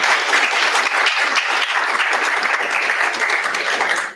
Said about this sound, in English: I think a round of applause for our panelists is in order